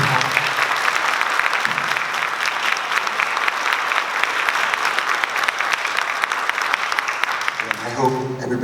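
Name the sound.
audience applause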